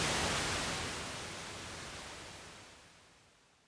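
Pink noise passes through a short delay with feedback, a broad steady hiss that starts loud and fades gradually over a few seconds.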